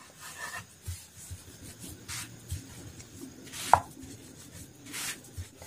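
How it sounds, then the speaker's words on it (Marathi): A rolling pin gently rolls potato dashmi dough dusted with bhagar flour, giving soft, close, repeated rubbing and scraping strokes with one brief sharp knock, and no talking. "हळुवारपणे लाटून घ्यायचंय।"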